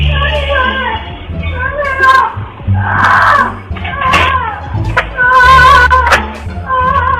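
Shrill, high-pitched cries and screams resembling a woman calling for help, uneven and intermittent, made by a parrot imitating the sounds.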